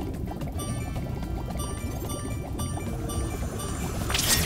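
Spyro swimming through lake water in Spyro Reignited Trilogy, a continuous close bubbling, sloshing wash with no talk, swelling into a brighter splash at the very end.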